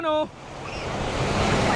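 Sea waves wash in steadily at a beach in Mauban, Quezon, a continuous broadband surf roar that swells and holds close to the microphone after a brief voice at the start.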